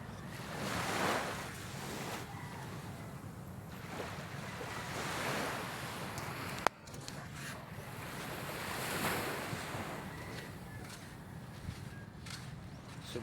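Surf washing onto a beach on a calm, mild day, a steady broad rush of waves rising and falling in slow swells, with some wind buffeting the microphone and one sharp knock midway.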